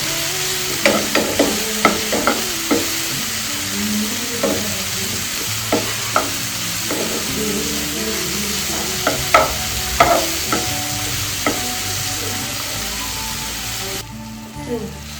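Tomatoes frying in a pan for a split mung dal with spinach, a steady close sizzle broken by repeated sharp scrapes and clinks of stirring, with no talking.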